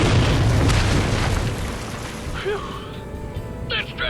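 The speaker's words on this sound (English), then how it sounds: "And here's a tank operated by Caboose." A tank cannon fires in an animated battle, a loud booming blast that rolls off into a rumbling decay, with faint clinking debris and small bursts trailing after.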